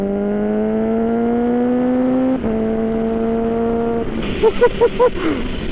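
A stage 4 Kawasaki Ninja H2 sport motorcycle engine winds up with a rising whine, shifts gear once and climbs again, followed by a few choppy bursts and excited shouting.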